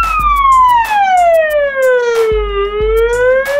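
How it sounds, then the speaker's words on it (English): A loud, close American fire truck siren wails, its pitch sliding slowly downward and then climbing back up in one long sweep. "This is an American fire truck."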